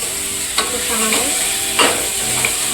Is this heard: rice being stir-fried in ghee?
yes